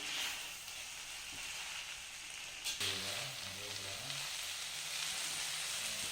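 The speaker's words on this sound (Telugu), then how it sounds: "ఈ నూడిల్స్ మసాలాలు అన్నీ బాగా కలిసేలాగా టాస్ చేసుకోవాలి." Veg noodles are tossed with masala in a hot pan, a soft steady sizzle with a brief rattle partway through, heard close but quiet, with faint voice-like tones in the background.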